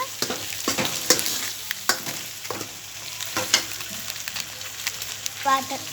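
Ingredients frying in a pan are mixed with a spoon: close, sharp scraping clacks at an irregular rhythm over a soft, constant sizzle of hot oil.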